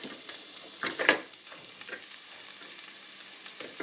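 Mixed ingredients for pasta e ceci frying in a pan over lowered flame, a steady soft sizzle with a brief louder burst of crackle early on, close and continuous with no talk.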